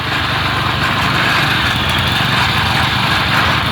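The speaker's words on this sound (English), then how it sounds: "apparently we got a problem with the gas tank vent on that motor" The small petrol engine of a concrete mixer, which has a faulty gas tank vent, runs continuously and loudly nearby with a buzzing, uneven drone.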